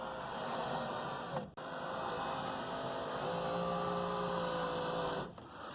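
A 1985 Mercedes 300CD power window motor and regulator run on a direct bench connection with a steady electric whine and hum, then stop briefly, start again, and pitch up as the motor loads, close and alone.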